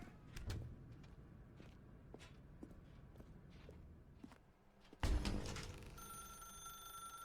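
A telephone rings in The Stanley Parable Ultra Deluxe, a sudden bright electronic ring arriving late after a stretch of soft footsteps and quiet room noise.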